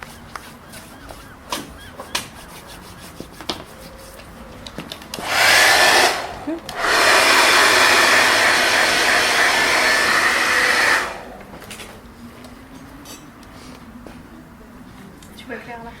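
A hair dryer blows on hair in a salon, close and loud, running in a short burst, stopping briefly, then running steadily for several seconds before cutting off, with quiet talk in the gaps.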